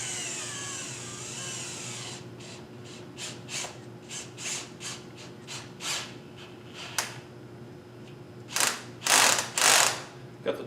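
A torque wrench ratchets on a clamp fitted around a handmade wooden scoop. It makes a close series of sharp, evenly spaced clicks that thin out midway, then a few louder, harsher ratchet bursts near the end, with no talking.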